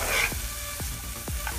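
Chopped carrot and capsicum cooking in a pan, a steady sizzle broken by three quick rhythmic stirring scrapes, close and moderately loud.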